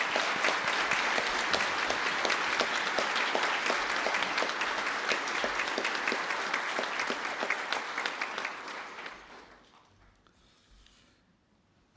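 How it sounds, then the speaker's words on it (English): Graduation ceremony audience gives a long, dense round of clapping for an award recipient, steady and loud at first, then thinning out and dying away near the end. "I would ask you all to join me in giving her a large round of applause"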